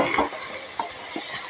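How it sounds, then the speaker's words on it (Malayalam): Chicken pieces dropped into a pan of frying onions for a kandari chicken roast, giving a broad hiss of sizzling with a few soft clinks and stirring scrapes. "ഇനി നമുക്ക് ഇതിനകത്തോട്ട് ഈ ചിക്കൻ ഇടാം."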